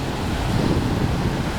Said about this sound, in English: There's Jenna putting her feet into the Pacific Ocean for the first time.